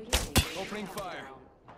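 Gunfire in the video game Apex Legends: two sharp, loud shots close together near the start, then a fading tail of game sounds with no talk over it.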